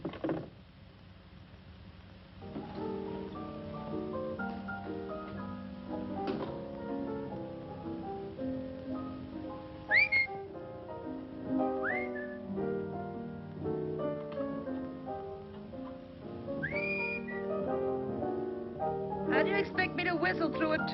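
A person whistles a melodic tune in a 1940s domestic scene, sustained pitched notes with occasional upward slides, steady and fairly close over faint background, no speech.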